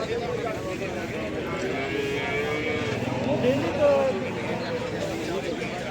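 Buffalo calves and cattle at a busy livestock market, with low mooing calls rising over a steady crowd babble and people talking nearby throughout.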